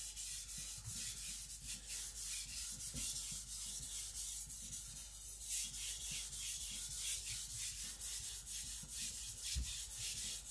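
A custom Chinese cleaver edge is drawn across whetstones in steady, close scraping strokes, a continuous gritty rubbing with a soft rhythmic pulse from each pass and no talking.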